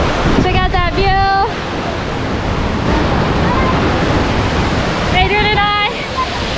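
El Chiflon waterfall in Chiapas, Mexico, gives a loud, steady rushing roar through the whole stretch, with bursts of people's voices near the start and again near the end.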